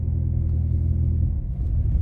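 A Peugeot 208 GTI with a Stage 2 tune pulls away on a road test, its engine a steady low rumble heard from inside the car, with no talk.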